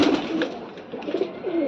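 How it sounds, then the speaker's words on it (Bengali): Pigeons at a pigeon farm coo in soft, repeated rolling calls, close and fairly loud, continuing through the moment with no speech. "এই যে আমাদের কবুতরগুলি দেখতে থাকুন"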